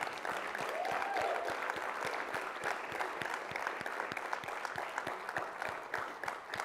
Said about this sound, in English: can we just give another round of applause to all the creators for submitting a video?